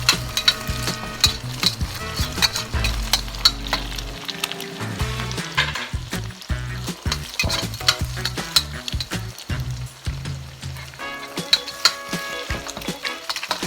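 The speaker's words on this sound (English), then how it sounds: "now we're just going to lay them in that oil and start scrambling them up, mixing them up" Four eggs being scrambled in hot oil in a pan, with a utensil scraping and stirring in steady, busy strokes over a continuous frying sizzle, close and fairly loud, with no talking.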